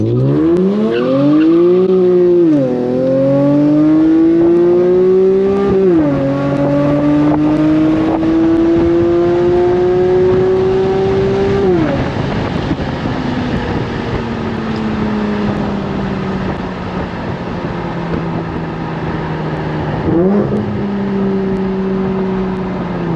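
A tuned Infiniti Q50 with about 300 wheel horsepower pulls hard at night, engine note climbing loud and close through several gear changes, each shift dropping the pitch before it rises again.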